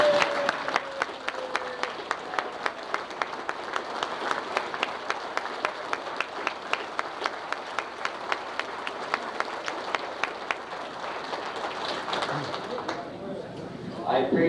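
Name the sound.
audience applause, standing ovation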